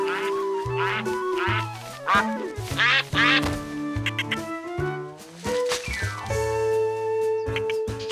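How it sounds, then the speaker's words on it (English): Cartoon ducks in a duck pen quack repeatedly in quick, bouncy bursts, several voices overlapping in a playful rhythm with musical tones, close and clear without talk. "Feeding ducks is like a relaxing brain massage."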